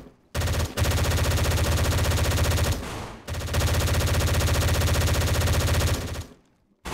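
Automatic gunfire in the survival game DayZ rattles in two long sustained bursts separated by a brief gap, loud and close, with no talk over it.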